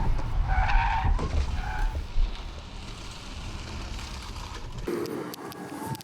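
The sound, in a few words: BMW i5 2024 car swerving in moose test, tires skidding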